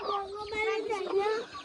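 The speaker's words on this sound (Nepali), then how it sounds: "कुखुरा फेरि कुखुरा" A chicken clucks close by in a village yard, a short run of high, wavering calls lasting under two seconds.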